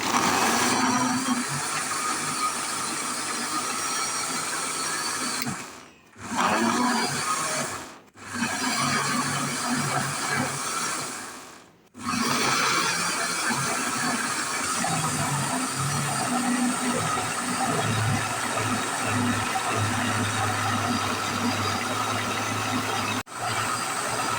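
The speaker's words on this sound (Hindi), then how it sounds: "अब चटनी को ना हमने ग्राइंड करना है" A kitchen mixer grinder whirs loudly as it grinds guava chutney, running steadily for long stretches with a few brief stops in between.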